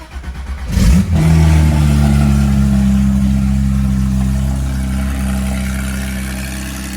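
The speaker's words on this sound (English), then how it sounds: "Initial startup of this car is pretty loud, but then the valves kick in." A 2017 Porsche 911 GT3 RS engine cold-starts with a sharp loud burst, then settles into a steady, strong high idle that slowly eases over several seconds as the exhaust valves engage.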